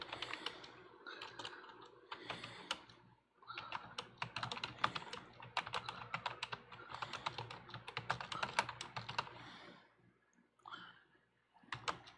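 Computer keyboard typing comes in quick clattering bursts of key clicks, separated by brief pauses, faint and close with no talking.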